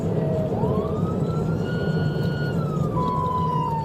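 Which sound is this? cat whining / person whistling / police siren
police siren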